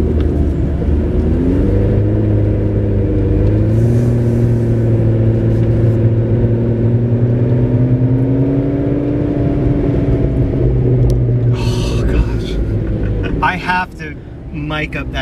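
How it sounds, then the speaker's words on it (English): A McLaren 650S supercar idles and rolls away with a deep, steady exhaust drone that shifts pitch slightly and fades toward the end, loud and close, with a person speaking briefly near the finish. "I definitely have to record you driving away."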